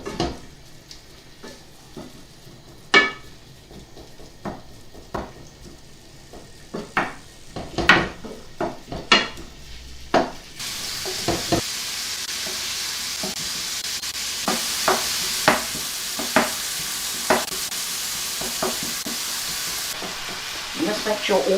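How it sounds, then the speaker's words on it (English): Minced beef is stirred in a pan with scattered scraping clicks, then drops into hot oil and sizzles loudly and continuously, with the spoon still knocking against the pan. "Now put half of your mince into your oil."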